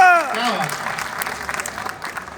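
Audience clapping at a Hindi kavi sammelan poetry recital rises as a voice trails off, then settles into a steady, moderately loud wash of applause for the rest of the moment.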